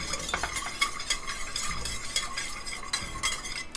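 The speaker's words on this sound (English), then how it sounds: "We're going to whisk everything to combine before we put any heat on." Whisk scraping and tapping through sauce ingredients in a pan before heating for oven fried wings, a quick irregular run of close metallic strokes with no talking.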